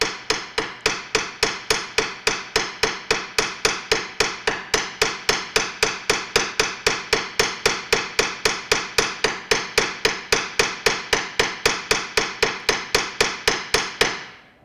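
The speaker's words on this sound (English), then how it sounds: "when you're planishing, you'd be hammering with about this level of hardness" Rapid, evenly paced planishing hammer blows on a metal bracelet formed over Fretz tools, dozens of sharp ringing strikes in a steady rhythm for about fourteen seconds.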